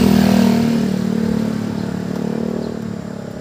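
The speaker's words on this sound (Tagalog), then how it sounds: "Nadaan kasi dito ng kotse tapos motor yan guys" A car and then a motorcycle pass nearby, the engine humming loudly then slowly fading, leaving a lower rumble of traffic.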